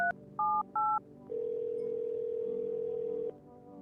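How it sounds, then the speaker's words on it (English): Telephone dialing in the video game No, I'm Not A Human: a quick sequence of three keypad tones followed by a long, steady ringback tone that holds for about two seconds and then cuts off, clear and alone. "Let's phone Forrest"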